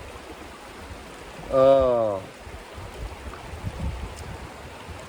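A river flows with a steady, broad rushing wash throughout, and a person gives a brief vocal exclamation over it.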